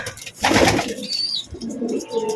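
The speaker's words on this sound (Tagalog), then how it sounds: "Dito na yung mga ibon natin." Racing pigeons returning to their loft coo and flutter close by, a soft low burbling with a brief rustle of wings and faint chirps in the background.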